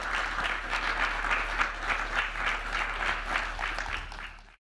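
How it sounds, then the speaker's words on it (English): Conference audience applauding panelists at a climate-focused event on net zero, a dense, continuous wash of many hands clapping at steady loudness for several seconds before stopping abruptly, with a low hum underneath. "Big applause to them."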